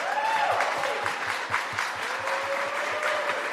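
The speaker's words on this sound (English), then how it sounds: "Let's have a round of applause for all of our panelists." A conference audience gives the defense industry panelists a round of applause, sustained clapping throughout with a faint rhythmic thump beneath and murmured voices in the room.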